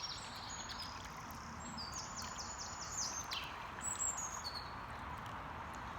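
Small birds chirp and tweet in short bursts in the distance across an outdoor natural setting, the calls faint over a steady background hiss.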